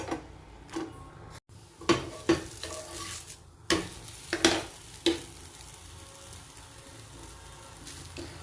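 Methi aloo paratha cooks in ghee on a pan with a steady low sizzle. A few sharp spatula scrapes and taps stand out near the start, and no one speaks.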